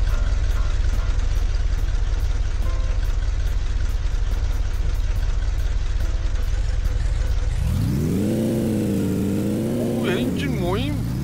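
A family car's engine runs at idle during car camping, a steady, close, low rumble that fills most of the stretch before a voice rises over it near the end.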